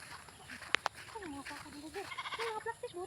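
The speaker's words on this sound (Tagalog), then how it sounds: "Magligpit kami sa aming mga alagang kambing." Farm goats being gathered by their keepers bleat a few times, the wavering calls rising and falling at moderate distance beneath people talking.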